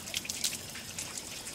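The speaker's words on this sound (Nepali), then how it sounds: "मुलको पानीले मुख धोएर" Fresh spring water splashes on a face during a mountain hike: faint, close drips and light splashes in quick irregular bursts against a quiet outdoor background.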